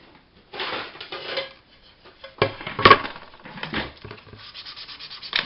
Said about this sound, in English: It's a chopping board.